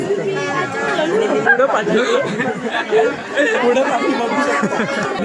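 A thick crowd at the Chirner Maghi Ganesh festival fills the space with steady, close chatter from many voices at once. Individual nearby speakers stand out over the general babble.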